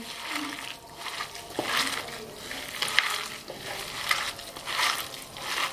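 Washed vegetables being stirred and mixed with gram flour for pakoras, a wet, squelchy stirring with soft splattery textures, moderately close and fairly quiet, with no talking.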